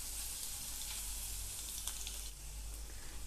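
Whole spices sauté in an oil-filled pan for a Maharashtrian rassa vade bhaji, giving a steady, soft sizzle with faint stirring scrapes and no talking.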